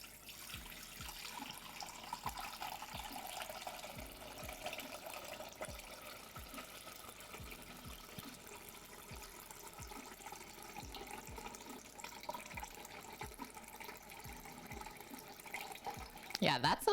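Tap water runs steadily into a bowl to make brine for smash burger prep, a continuous hiss and splash alongside a repeating low knocking, with people talking over it.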